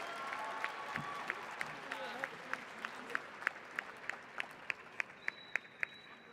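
Applause for graduates at a university hooding and diploma ceremony, a soft background of clapping with a distinct, regular rhythmic beat of sharp claps standing out over it, moderately distant.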